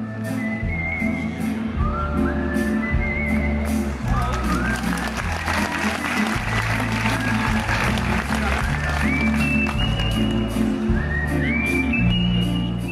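Loud, sustained applause fills a hall after a whistling concert, mixed with crowd noise and high whistled tones, and a voice speaks over it.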